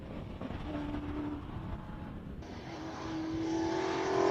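A classic Porsche 911 Turbo passing on a track at a Cape Town speed event, its engine a rising, droning note that grows louder toward the end, heard from a distance.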